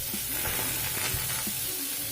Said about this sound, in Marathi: थोडीशी दालचिनी घेतली आहे आणि तमालपत्र, हे तिन्ही आपण यामध्ये परतून घेऊया।